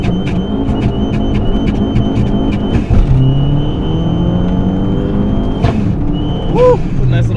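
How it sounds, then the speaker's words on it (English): A Fiat 500 Abarth's engine revs hard and loud, the sharp pops of a backfire cracking through the roar as the car pulls away, with a voice briefly heard. "Nice little backfire action right there."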